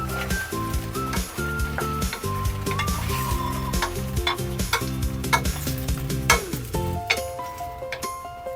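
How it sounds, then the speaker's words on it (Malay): Capsicum stir-frying in a pan for chili chicken makes a continuous sizzle with repeated scraping and clinking of a utensil stirring against the pan, close and steady, with no talk. "Nah, ini piat bunyi capsicum."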